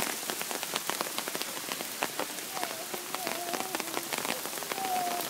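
Steady rain mixed with hail pelting surfaces during an outdoor storm, a dense constant patter of sharp hits close by, with occasional voices talking over it.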